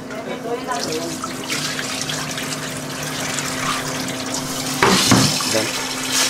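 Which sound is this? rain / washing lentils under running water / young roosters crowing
washing lentils under running water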